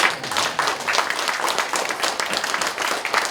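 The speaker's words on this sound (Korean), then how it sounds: "박수 한번 쳐주세요" A church congregation claps together at a pastor's installation service, a dense, steady wash of many hands filling the room from start to finish without pause.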